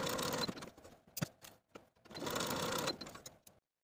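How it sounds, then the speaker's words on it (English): Close sewing machine running its longest stitch to baste gathering lines across the top of a dress sleeve, two sustained bursts of whirring separated by a short pause with a few light clicks. "We're going to sew the basting stitches at the top of both of our sleeves using the longest stitch on your machine"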